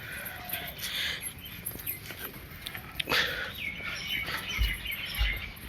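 Pigeons in a home loft make scattered chirps and small calls with light rustling, fairly faint and close, and a few soft low thumps near the end.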